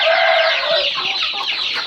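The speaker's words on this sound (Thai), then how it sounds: "นี่เลยครับไก่ได้กินอาหาร อย่างดีเลย" A flock of young chickens being fed clucks and chatters loudly and continuously at close range. The overlapping calls form a dense, busy chorus with no speech.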